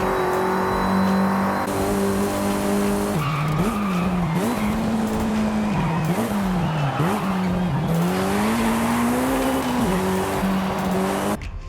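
Mitsubishi EVO 9 in Forza Horizon 5 on a time attack run, its loud engine revving up and down through gear changes with tire squeal and skidding throughout, close and continuous.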